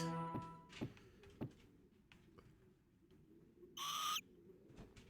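Bird enemy in the classic Karateka video game: sparse electronic thumps and ticks, then a loud bright synthesized screech near the end, with no talk.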